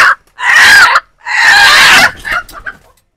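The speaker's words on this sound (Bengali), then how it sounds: "দর্শক, দেশি মুরগিগুলা" Native domestic chickens near a pigeon coop, clucking loudly at close range in two long drawn-out bursts and then a few short ones, with no talking.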